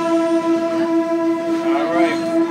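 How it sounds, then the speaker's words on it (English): Ride on a Wilmington and Western Railroad train, open-air car, with a steady tonal horn or whistle blast ringing over low rumbling rail noise for the whole stretch. "we're about to wrap up our great train ride on the Wilmington and Western Railroad"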